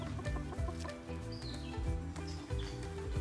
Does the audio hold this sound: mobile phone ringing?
no